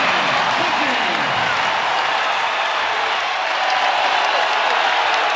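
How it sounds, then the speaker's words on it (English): Arena crowd at CHI Health Center roars steadily after a Creighton basket in a Marquette–Creighton basketball game, a broad sustained cheer with an announcer talking over it. "And the crowd coming alive here at CHI Health Center"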